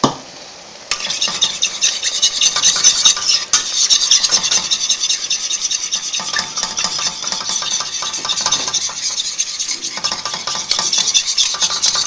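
A thickening sauce for tuna mornay is stirred briskly in a pot, with close, loud scraping and clinking of a utensil against the pan over a soft bubbling hiss, no speech.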